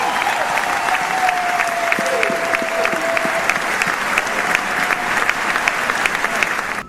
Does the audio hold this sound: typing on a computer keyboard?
no